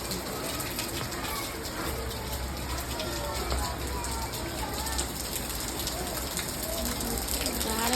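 Rain falling steadily outdoors, a continuous broad hiss at moderate level throughout, with faint voices murmuring underneath.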